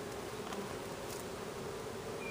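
A steady, close buzz of many honeybees at an open hive humming continuously with no voices.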